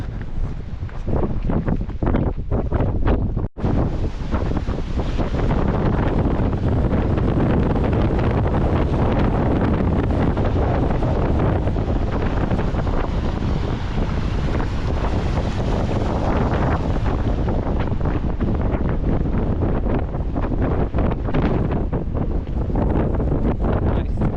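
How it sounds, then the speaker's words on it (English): Strong wind buffets the microphone on a coastal walk between Tintagel and Boscastle in Cornwall, a loud, continuous roar that lasts throughout with one brief dropout near the start. "Probably won't be much to hear either with the way the wind is blowing."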